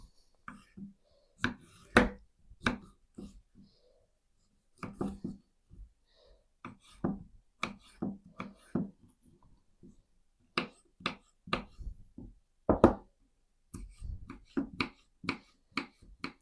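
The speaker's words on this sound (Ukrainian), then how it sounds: "огірок нарізаю на дрібненько" A knife chops pickled cucumber finely on a board in quick irregular bursts of sharp taps, with brief pauses between runs, close and moderately quiet.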